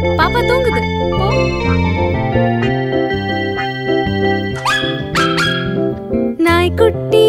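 A Tamil kids' song features a puppy's barks and yips set into the bright, steady music, with a singing voice carrying the melody over the repeated rhythmic backing.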